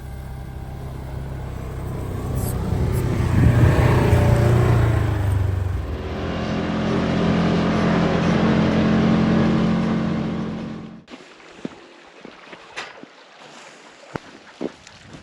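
Car engine and road rumble while driving home on a Wyoming ranch in snowy weather, a loud steady drone with wind noise that swells, then cuts off abruptly, leaving quiet clicks and taps.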